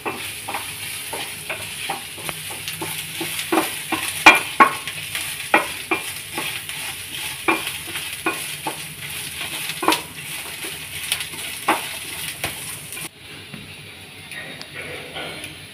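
Ginger, dried red chilies and urad dal fry in a pan for ginger thuvaiyal, a soft steady sizzle broken by repeated close scraping taps of a spoon stirring against metal, fading quieter at the end.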